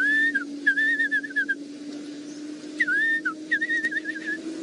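A person whistles an imitation of a fiery-necked nightjar call, two bursts of quick warbling tremolo notes that dip and rise, clear and close over a steady low hum.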